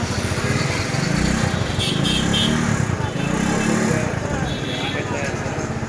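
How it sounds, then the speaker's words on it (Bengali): A motorcycle engine runs steadily and loudly up close at a bike repair shop, with a rough throbbing rumble that swells and eases slightly; voices can be heard beneath it. "সাউন্ডটা শুনেন বাইকের"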